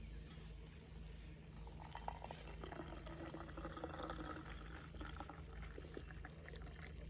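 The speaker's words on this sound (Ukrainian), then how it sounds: "Наливаємо кипяточку." Faint, steady trickling of hot water being poured into a cup, close up under a low background hum.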